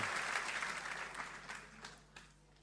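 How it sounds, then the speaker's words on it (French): Applause from a crowd, steady clapping that slowly fades toward the end. "Je voudrais demander de l'applaudir. Applaudissez André."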